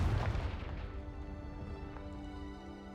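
A fire-spell explosion in the video game Hogwarts Legacy lands as one booming blast that rumbles and rings out, decaying over the next few seconds at moderate volume.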